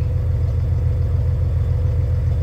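A Volvo truck engine running steadily at idle, a heavy low rumble with a faint rattling clatter, close and constant.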